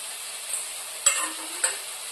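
Ginger garlic paste fries with onions in a pan for egg curry, a soft continuous sizzle with a couple of sharp stirring clicks, fairly quiet and without talk.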